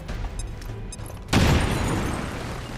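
A grenade blows up a wall in XCOM 2: one loud, deep boom that cuts in suddenly and then rumbles away slowly.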